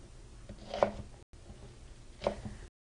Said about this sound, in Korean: 다음은 양파를 피망과 같은 똑같은 방법으로 깍둑 썰기를 해줍니다.